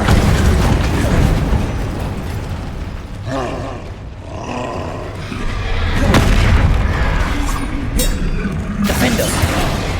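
A Bombarda spell explosion in the video game Hogwarts Legacy: heavy booming blasts and roaring rumble fill the clip loudly, mixed with combat effects and little talk.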